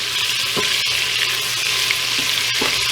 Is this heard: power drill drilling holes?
no